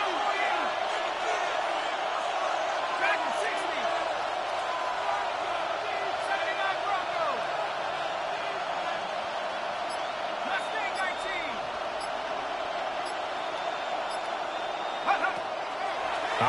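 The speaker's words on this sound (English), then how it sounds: "This crowd turning up the decibel level." Football stadium crowd roaring steadily through a third-and-long play, a broad sustained din with occasional sharp cracks, a commentator's voice faintly over it.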